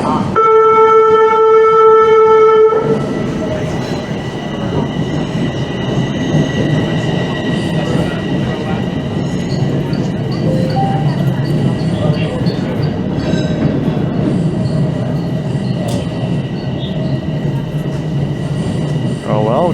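A northbound Toronto subway Line 1 train rumbles loud and close at the platform, with a steady mechanical drone and wheel noise throughout, opening with a brief tonal chime before the heavy rolling sound takes over.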